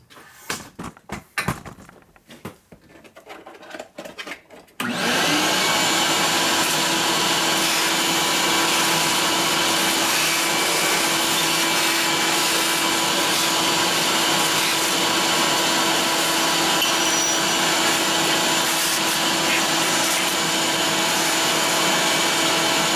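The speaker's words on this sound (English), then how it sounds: "vacuum up the chips" A shop vacuum roars steadily for nearly twenty seconds, loud and close, sucking metal chips and filings from a repaired 1972 Harley-Davidson Ironhead Sportster engine case, after a few seconds of quieter clatter and handling noises.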